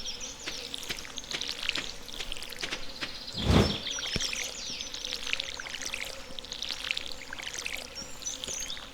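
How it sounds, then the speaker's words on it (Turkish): Summer flies buzz continuously in the farming game Stardew Valley, a dense insect drone layered with chirping. A short splash of water briefly stands out partway through. "Oyunda müzik olarak sık sık sinek sesiyle karşılaşıyorsunuz."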